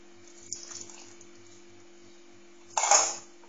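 A spoon stirring butter or margarine into a dissolving dog-biscuit mixture in a pot: soft, sporadic metal clinks, then a louder scraping swirl near the end, with no talk.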